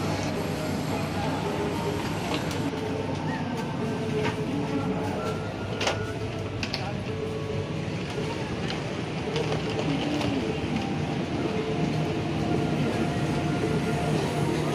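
Rumbling interior of a crowded economy train at Lempuyangan station in Yogyakarta as passengers get off, with steady rail noise, clanks and scattered faint voices.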